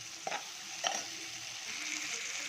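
Tomatoes with salt and chili powder frying in a pan, a soft continuous sizzle with two quick spoon scrapes early on, close and quiet, no talking.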